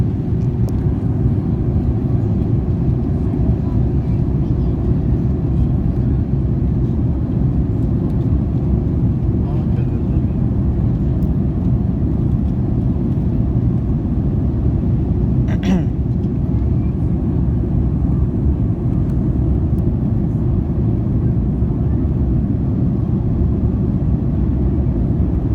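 Cabin of a Mahan Air Airbus A310-304 in flight with the spoilers extended: a loud, steady, low roaring rumble that holds evenly throughout, with no clear talk over it.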